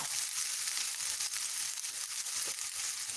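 Rice hitting a small amount of hot oil in a pan, giving a steady, close hiss and crackle that holds evenly throughout with faint stirring scrapes.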